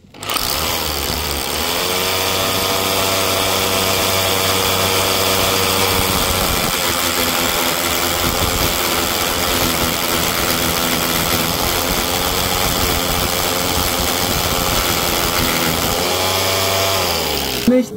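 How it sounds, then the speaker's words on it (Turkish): An impact drill runs steadily with a high whine and a buzzing hammer rattle, drilling a wall hole for a curtain rod bracket, continuous for the whole stretch with only slight changes in pitch. "Darbeli matkap yardımıyla deliğimizi açma işlemini gerçekleştiriyoruz."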